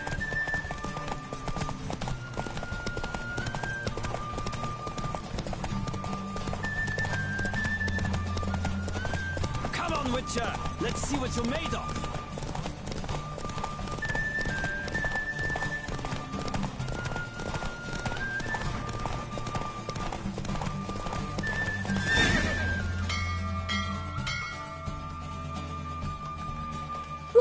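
A horse gallops in a race in The Witcher 3, with steady hoofbeats and an occasional whinny under background music and a man's spoken taunt.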